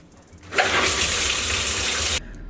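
Warm water gushing from a handheld shower attachment, a steady loud hiss that starts abruptly, runs for under two seconds and cuts off sharply.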